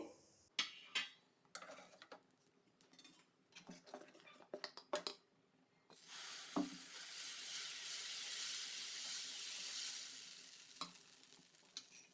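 Spicy kara dosa batter sizzles on a hot pan, a steady hiss swelling loud for the last half after scattered clinks and scrapes of a utensil nearby.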